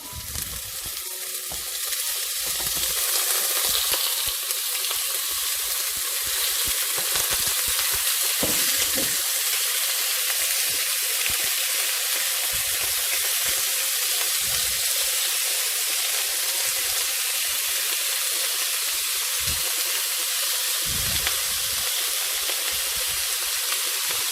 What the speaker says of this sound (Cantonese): 煎一煎呢啲排骨